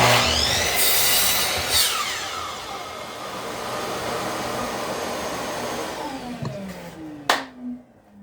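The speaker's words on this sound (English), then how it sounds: "little stop block that's just attached right onto the fence of my table saw, and I'm just making a bunch of cuts" Table saw slicing a run of small wood parts against a stop block clamped to the fence, with a dedicated shop vac running throughout; a steady loud whine and rasp, rising cut bursts, and a fading spin-down near the end.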